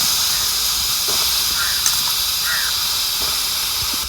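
Raw papaya pieces roasting in a hot kadhai give a steady, close, broadband sizzling hiss that runs without a break, with a few faint clicks and small sounds from stirring.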